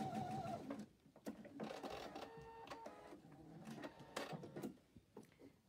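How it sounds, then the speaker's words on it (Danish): A sewing machine straight-stitches a patch on at a sewing gathering. The mechanical whirring runs in uneven stretches with brief stops, close but fairly quiet, with no talking over it. "Jeg syr lappen på her nedover."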